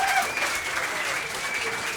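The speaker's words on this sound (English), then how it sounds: "Give yourselves a cheer." A live pub audience at the Prince in southwest London cheers and applauds, a dense wash of clapping and whoops, close and loud, over the whole short stretch.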